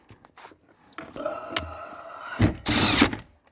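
A power drill backs out screws on a late-90s Buick LeSabre in short whirring bursts with clicks between them, closing on a louder, longer burst of spinning, all close and fairly quiet.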